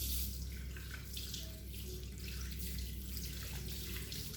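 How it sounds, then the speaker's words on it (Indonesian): Running tap water splashing over hands at a sink during handwashing, a steady broad rush with light drips, continuous and fairly close, with no speech. "basahi tangan dengan air mengalir"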